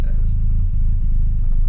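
An old Ford Cosworth engine, from an RS 1600i-era car, idles low and rough with a steady close rumble and an uneven pulse, while a voice briefly whispers over it.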